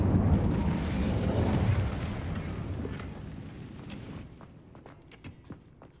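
The Incendio fire spell is cast in the Hogwarts Legacy video game as a loud, roaring burst of flame that rumbles on for several seconds, then fades into quieter crackles and faint footsteps.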